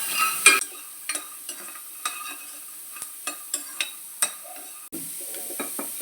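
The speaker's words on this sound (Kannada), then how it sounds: "ಈಗ ನೆಲಗಡಲೆ ಹುರಿತಾ ಇದ್ದೀನಿ." Peanuts dry roast without oil in a pan for a stuffed capsicum dish. A spoon or spatula stirs them in sparse, scraping strokes over a soft, steady background hiss.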